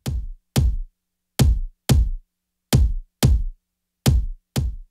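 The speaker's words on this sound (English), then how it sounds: "That's the actual sound of the kick." A dry kick drum sample with no effects strikes eight times in an uneven, beat-like pattern, each hit a deep, punchy thump that decays quickly into complete silence.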